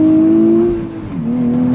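A 2023 Nissan Z Performance engine pulls hard on throttle from inside the cabin, a loud steady drone that dips briefly, as during a shift, then climbs again.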